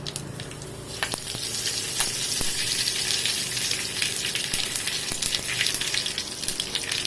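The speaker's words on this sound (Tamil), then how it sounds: "கடுகு நல்லா பொரிஞ்சதும் அதில் கருவேப்பிலை போட்டுக்கலாம்." Mustard seeds and curry leaves fry in hot oil with a continuous crackling sizzle, sharp pops scattered through it, close up and alone without any talk.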